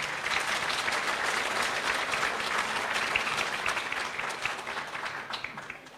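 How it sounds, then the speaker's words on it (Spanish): A seated audience at a political education forum on the coup in Bolivia applauds the presidential spokesman: dense, steady clapping from many hands that holds for several seconds, then slowly tapers. "Un fuerte aplauso, por favor."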